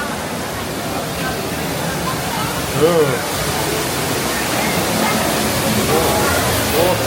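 Water rushing and splashing loudly through a passage as people wade in, a dense continuous roar with a few louder surges, while a voice briefly exclaims over it.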